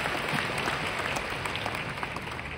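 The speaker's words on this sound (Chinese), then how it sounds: "我们也给他一个掌声好不好？" Audience applause at a leadership training seminar at MITEC in Malaysia, a short steady wash of many hands clapping at moderate distance, continuous with no gaps and little else audible.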